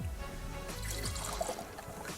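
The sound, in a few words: juice being poured out of a centrifugal juicer jug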